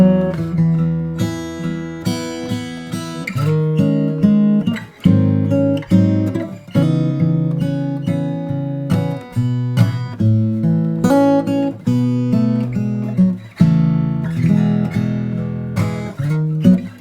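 Solo acoustic guitar plays the A section of a song in a fingerstyle arrangement, melody over bass notes and chords, steady and close with no voices.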